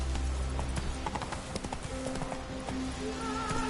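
Roach, a horse in the Witcher 3 video game, gallops with a steady clip-clop of hooves throughout, close and fairly loud against a busy game soundscape.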